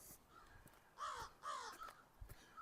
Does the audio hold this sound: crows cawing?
yes